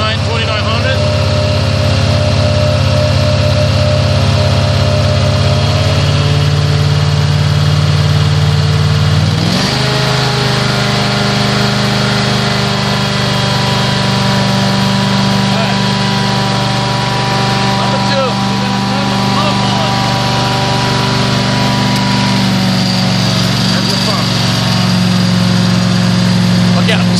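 Amtex Marine 4047 APO truck-mounted cleaning unit engine running loud and close, a steady droning hum that steps up in pitch partway through as the RPM rises toward 2900, then holds constant.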